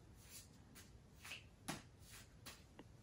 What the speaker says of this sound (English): So I'm gonna be shuffling the deck like this, just like that.